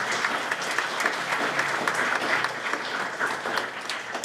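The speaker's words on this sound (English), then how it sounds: "A round of applause, please, for the athletes." An audience at a SailGP press conference applauds the sailing athletes, a continuous, even wash of many hands clapping at moderate distance.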